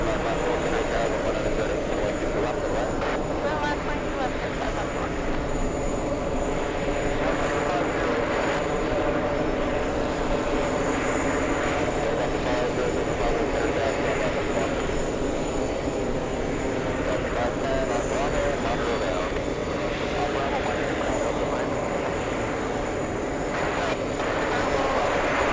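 Emirates A380 jet engines heard from an airport setting, a loud, steady, continuous roar and whine that stays even throughout, with faint voices in the background.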